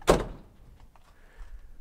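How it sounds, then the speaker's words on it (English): A truck cab door swings shut with the window open, giving one loud, close thud at the start, followed by faint low rattling and quiet cab ambience. "Let's shut the door and see how it is."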